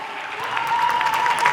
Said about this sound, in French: Merci de lui décerner de vifs applaudissements.